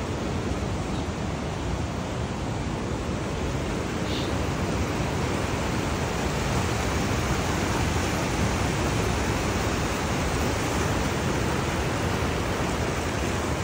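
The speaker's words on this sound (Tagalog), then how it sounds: "Lakas ng current ng tubig." Strong current of water rushing at McLaren Falls in Tauranga, a dense continuous roar of churning water, loud and unbroken throughout with no voices.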